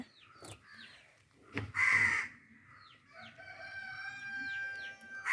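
Crows caw repeatedly around an outdoor fish tank in Kerala, several short hoarse calls at moderate distance, with a rooster crowing in the background and no talk.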